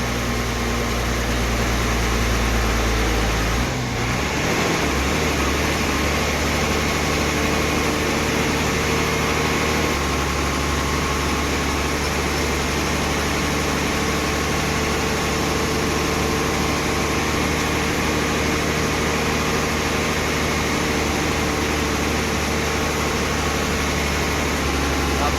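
An MSRTC bus engine hums and drones as the bus climbs the old Khandala ghat section of the highway, a loud, constant low rumble heard from inside the cabin, with a shift in tone early on.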